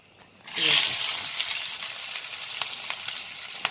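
Whole cardamom, cinnamon stick and cloves hit hot oil for a cauliflower veg biryani, bursting into a loud sizzle that settles into a steady frying hiss with small pops, alone without talk.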